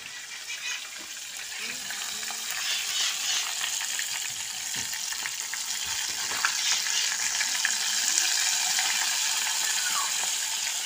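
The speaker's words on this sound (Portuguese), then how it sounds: "daqui a pouco eu vou começar a fritar aí e nós mostramos" Flour-breaded fish frying in a pan at home, a steady loud crackling sizzle with scattered pops throughout, no one speaking.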